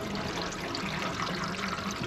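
Water runs steadily through newly plumbed bath waste and trap pipework, a continuous close rushing trickle at moderate volume with no talk.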